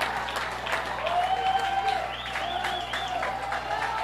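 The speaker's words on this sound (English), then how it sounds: "Skyridge cheering on Carter Smith." A high school baseball crowd claps and cheers steadily in a state tournament quarterfinal, with whistles and scattered shouts over a continuous wash of applause, and a commentator's voice mixed in.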